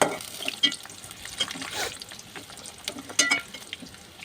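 Onions fry and are stirred in a pan for a restaurant-style chicken curry, with a steady soft sizzle, spatula scrapes and clinks scattered throughout, close up and without talk.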